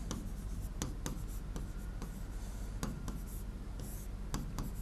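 Quick pen strokes while notes on Sultanate history are written during a Hindi lecture, a rapid run of close, sharp scratches and taps over steady background noise, with no talk.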